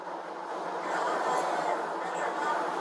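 A steady, loud rumbling roar of a Red Line subway train in motion, continuous and unbroken throughout, with faint indistinct voices mixed into the noise.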